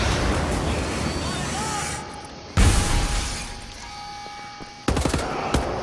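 Gunfire and a grenade blast ring out in the video game Wolfenstein: The New Order: a sharp explosion, then bursts of rapid shots and a second loud impact, while a player's voice speaks over the action.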